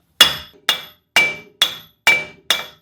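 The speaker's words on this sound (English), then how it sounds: "we're gonna use our metal mallet again and just smack it out" A metal mallet smacks a CV axle out of the hub on a Ram: six sharp, ringing metallic blows at a steady pace, each decaying quickly before the next, close and loud.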